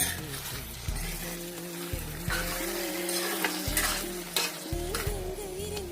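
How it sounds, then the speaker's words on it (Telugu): A spoon stirs beaten eggs into cooked beans in a sizzling pan for a beans pepper egg bhurji, with repeated scraping strokes over a constant frying hiss, close up and without speech. "ఇలా మగ్గిన తర్వాత 2 ఎగ్స్ పలగొట్టుకోవాలి. కలుపుకోవాలి."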